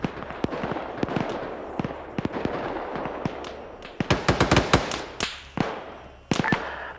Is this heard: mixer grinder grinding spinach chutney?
no